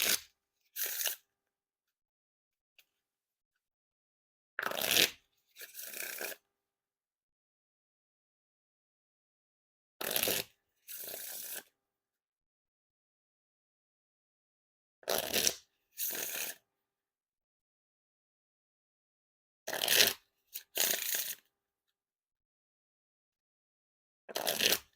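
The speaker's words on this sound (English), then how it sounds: "And now time for the riffle shuffle or bridge shuffle." Theory11 Deck One Industrial Edition playing cards are riffle and bridge shuffled five times, each a crisp double burst of fluttering card edges spaced about five seconds apart with silence between.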